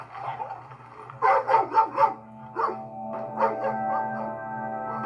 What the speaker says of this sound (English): House loaded with really angry dogs.